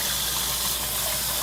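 Slightly warm water from a tap runs in a steady, close, unbroken rush while a vinyl record is rinsed during cleaning, with no voices over it.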